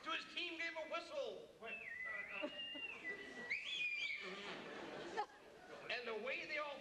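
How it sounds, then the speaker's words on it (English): A few short, bright whistles ring out over background chatter and voices. "He sprang to his sleigh, to his team gave a whistle."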